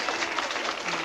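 A studio audience at a game show claps and cheers for contestants, a dense, steady wash of applause with crowd noise filling the whole second at even loudness, no clear speech standing out.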